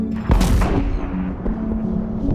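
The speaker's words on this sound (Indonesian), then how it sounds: "Weapons fired." Weapons fire with a single heavy blast that opens in a sharp, loud crack and rolls into a deep rumble, trailing off into a low, booming tail.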